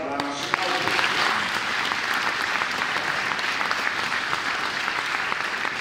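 An audience at a choir's centenary concert gives loud, sustained applause for the honoured authors. The dense clapping runs steadily for several seconds, with a voice speaking briefly near the start.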